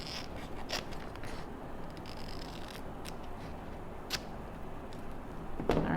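Scissors cut out a paper teal butterfly, giving soft close snips and crisp rustling that stay quiet against faint room noise, with a louder rustle near the end.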